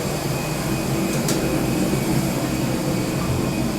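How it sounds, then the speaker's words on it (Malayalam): A parked airplane at an airport gate gives off a loud, steady jet engine whine and broadband hum that fills the air without letting up. "ഇതാണ് പ്ലെയിൻ. പ്ലെയിനിൽ ആദ്യമായിട്ടല്ലേ?"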